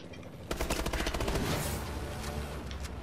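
Automatic weapon fire in Call of Duty Advanced Warfare erupts after a brief lull, a loud, fast string of shots that thickens into a continuous roar of gunfire and explosions.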